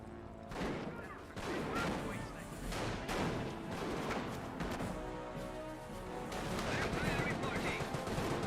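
Bursts of gunfire in the World War II strategy game Company of Heroes, with Panzer Grenadiers firing on a Bren carrier: repeated rattling volleys and sharp shots at moderate distance, with a commentator talking over much of it.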